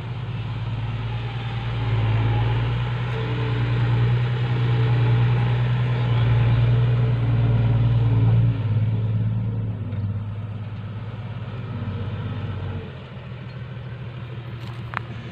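A truck engine runs steadily while reversing to dump soil, with a deep continuous rumble that swells slightly around midway and then drops in level near the end, loud and close with no talk.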